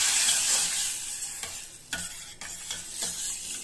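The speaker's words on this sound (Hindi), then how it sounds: "अब रायते में तड़का लगा देंगे।" Whole spices tempered in hot oil in a pan for a tomato onion raita, a steady close sizzle and crackle with a few sharper pops and stirring clatter, no talking.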